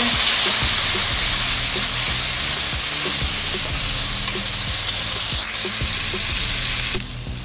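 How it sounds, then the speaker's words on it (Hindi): Loud, steady sizzling of chopped tomatoes added to frying onions in a pan, with repeated scraping stir strokes throughout, close up and continuous. "अभी हम इसके अंदर ये 4 अदद टमाटर हमने काट के रखे थे ये ऐड कर देंगे और इनको मिक्स कर लेंगे"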